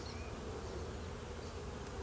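Honeybees buzzing steadily during a January hive inspection as frames are lifted, a continuous close hum of many insects with no talk.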